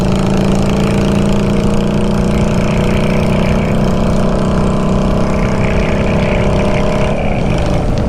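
A Honda Shadow Bobber motorcycle engine roars close and loud while riding, a dense throbbing rumble that holds steady before shifting pitch near the end, with no distinct backfire pops standing out.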